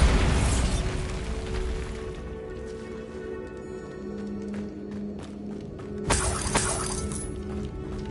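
A Bombarda spell blast in Hogwarts Legacy, a loud booming burst at the start that decays into rumbling debris, followed by a second bright crashing burst near the end, with game ambience between.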